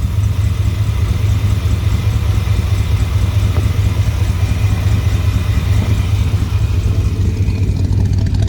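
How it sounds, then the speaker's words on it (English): A Chevy Suburban's 353 V8 engine with dual exhaust idling steadily nearby, a deep, even rumble with a low throb that holds constant throughout without revving. "Just sitting here and listen to her idle."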